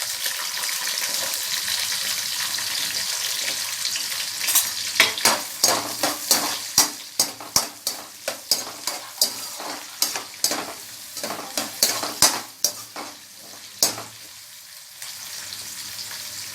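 Chopped onions and green chillies sizzle in hot oil in a pan for a Tamil chicken kuzhambu, with a steady frying hiss and a run of sharp spoon-scraping stirring strokes in the middle.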